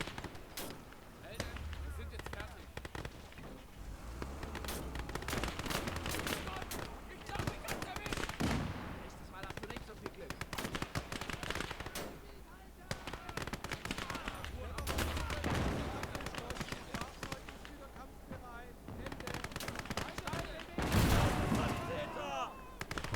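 Gunfire crackles through a Battle of Moscow skirmish in Gates of Hell, an RTS set on the German side, with repeated sharp shots and bursts scattered across the battle and a voice talking over much of it.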